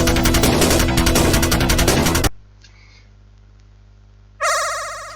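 A loud, repeating phone ringtone plays steadily, cuts off into near silence, then starts ringing again at the end.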